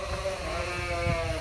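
Sheep on a farm on a warm day give a single drawn-out bleat, close and fairly loud over a quiet barn background, with no talk.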